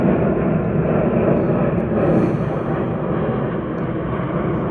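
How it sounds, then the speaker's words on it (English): An airplane passes overhead near a small airfield, a steady, loud broadband rumble and roar that fills the whole stretch, easing only slightly toward the end, with no talking. "I'm gonna let that plane pass."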